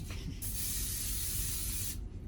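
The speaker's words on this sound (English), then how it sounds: "I'm just going to spray the pan around the outside" Pam olive oil cooking spray hisses steadily for about a second and a half as it is sprayed around the edge of a pan, close and fairly loud, after a faint click.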